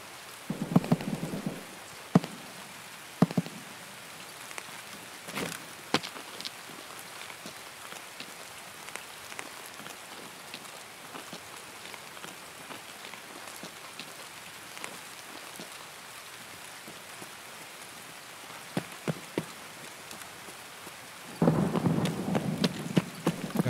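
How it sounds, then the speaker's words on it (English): Heavy rain pours steadily in the video game Escape From Tarkov, a continuous hiss with scattered sharp crackles and a couple of low rumbling thunder bursts near the start and end. "Oh, it's raining even harder now."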